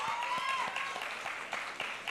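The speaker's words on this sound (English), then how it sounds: "You deserve a tremendous round of applause" Graduation ceremony applause from a crowd, a continuous bed of clapping with a few louder individual claps popping through, moderately close and unbroken by speech.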